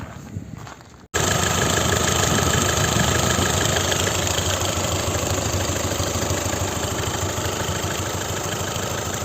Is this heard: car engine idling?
yes